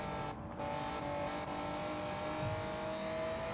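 A '92 Honda NSX Type R in Gran Turismo 7 runs a race on the Tokyo Expressway, its engine holding a steady high drone while climbing the rev range, with a faint tyre squeal under it; no voices.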